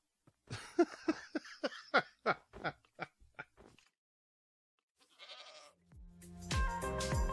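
Goat bleats from Minecraft, a run of about a dozen short, evenly spaced nasal cries, followed by a pause and then a burst of game sound effects.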